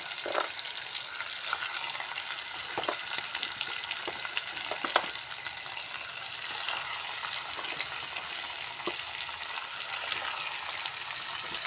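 Pieces of goat head curry, mixed with salt and chilli powder, hit hot oil in a pan and sizzle loudly and continuously, with occasional stirring clatter, close up and with no talking.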